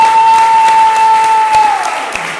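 A church congregation applauds during a Sunday worship service, a dense wash of clapping beneath a steady sustained musical note that drops away near the end.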